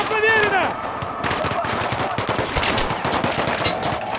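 Rapid automatic gunfire from a Battlefield 3 firefight, dense bursts of machine-gun fire crackling continuously over several seconds amid loud battle noise.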